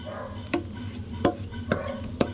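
A spoon stirs melon juice into a boiling sweet syrup in a pot, giving four sharp scraping knocks at a steady pace over a low simmering bubble.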